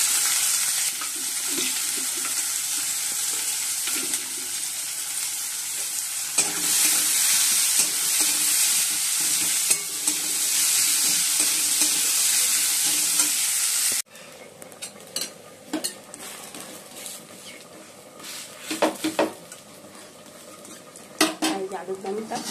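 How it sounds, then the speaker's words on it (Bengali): Onions fry in a pan with a loud, steady sizzle, then quieter scraping and clinking of a utensil stirring them in irregular strokes. "পেঁয়াজ মিশিয়ে দিলাম।"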